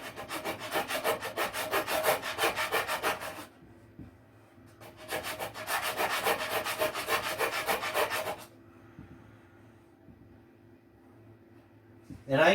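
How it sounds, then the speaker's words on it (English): Wooden subwoofer box for a Skar 8-inch ported build being hand-sanded: two long bursts of steady, rasping back-and-forth strokes, close and fairly loud, separated by a pause and followed by quiet. "And I can get in there and sand all that still because one side's not glued."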